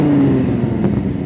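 A tuned convertible car's engine drones loudly up close at a steady, rumbling idle, with a slight rise in revs near the end. No one speaks over it.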